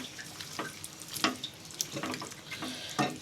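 Ketchup being stirred into potato jalfrezi in a pan, giving a few scattered scraping and wet squelching strokes at moderate level over a faint background hiss, with no talking.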